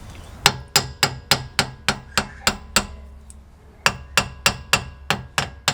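Metal hammer tapping brake shoes on a Mk2 VW Golf GTD to centralise them: sharp, close, evenly spaced knocks, about nine in a steady run, a short pause, then another quick series.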